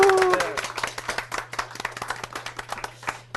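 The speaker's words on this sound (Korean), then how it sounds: "박수 부탁드리겠습니다." A small audience claps for a company CEO guest at a casual talk event, crisp individual claps close by in an uneven patter that thins out over a few seconds after a brief voice at the start.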